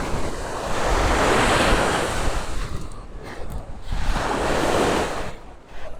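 Waves break and hiss up the beach at Lloret de Mar on the Costa Brava in two broad surges, the first long and full, the second building later, with some wind in the background.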